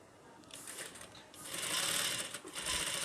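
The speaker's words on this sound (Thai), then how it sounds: "แล้วเราก็ เย็บกัน นี่ค่ะ ตรงสาบนะ" A sewing machine stitching a shirt sleeve placket runs steadily close by, with a dense mechanical whirr that speeds up and grows louder partway through.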